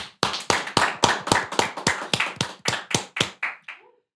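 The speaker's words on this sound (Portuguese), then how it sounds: "Senhoras e senhores, preparem-se para aquele aplauso costumeiro, Davi Lago" Hands clap in a podcast studio in a steady, evenly spaced rhythm of about a dozen crisp, close claps that slow slightly and fade out near the end, with no talking over them.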